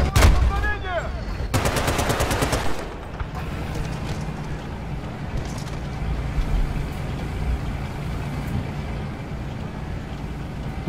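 Bursts of automatic gunfire from the video game Battlefield Bad Company 2, a loud rapid volley in the first seconds followed by scattered distant shots over a rumbling battlefield background.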